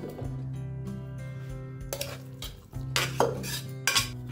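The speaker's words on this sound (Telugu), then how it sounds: "ఇప్పుడు మనం ఈ మ్యాష్ చేసుకునే మటన్ మిక్చర్ని దాన్ని కూడా ఈ దాల్ పేస్ట్లోకి యాడ్ చేసుకుందాము" Mashed mutton mixture for haleem being stirred into dal paste in a pot, with repeated metallic spoon clinks and scraping over steady background music.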